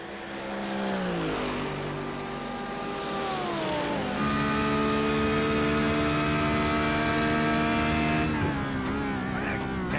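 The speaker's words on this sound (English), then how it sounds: "how good does that Porsche sound?" Porsche race car engine in iRacing at Sandown, sustained loud high-revving note with clear harmonics that drop on a downshift, then climb and hold steady at high revs before easing off again, with no talk.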